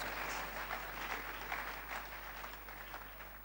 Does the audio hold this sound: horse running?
no